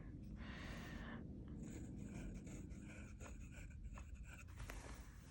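A fountain pen scratches across paper, close and quiet, with short strokes in an irregular rhythm over a faint background hiss and no talking.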